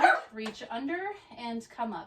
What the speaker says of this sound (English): you may hear my little girl dog in the background